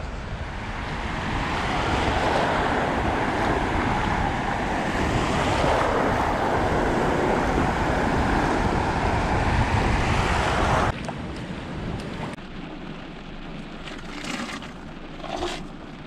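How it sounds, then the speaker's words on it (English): Waves breaking on Dennis Beach under rain and overcast skies, with a cross-onshore wind buffeting the microphone; a steady loud roar of surf and wind throughout, dropping slightly in level near the end. "Got some rain, overcast, wind, which is cross shore, slightly cross onshore."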